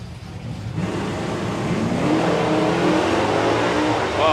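Drag racing car at a dragstalgia bracket racing event roaring down the strip, a loud sustained engine note rising in pitch as it accelerates away.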